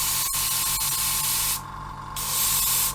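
A close, steady hiss of a Fengda FE-183K airbrush spraying isopropyl alcohol through, briefly softening for a moment before returning at full strength.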